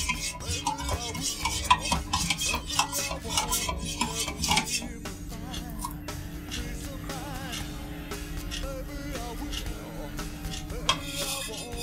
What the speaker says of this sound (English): So make sure you stir it up good.